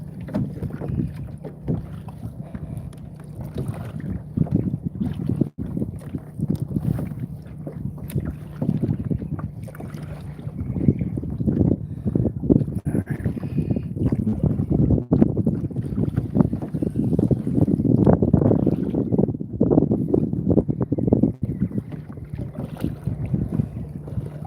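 A small rowboat is sculled on a breezy day, with steady wind buffeting and water sloshing and some faint oar knocks, all continuous and close.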